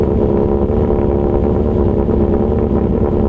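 A motorcycle engine runs loud and close, a steady throaty revving drone throughout.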